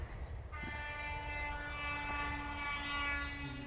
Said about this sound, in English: somebody just went by honking their horn